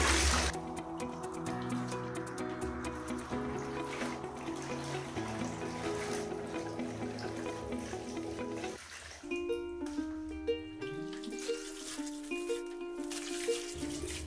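Tap water pours steadily into a bucket for hand-washing clothes, a continuous close rushing fill with a rising tone as the bucket fills.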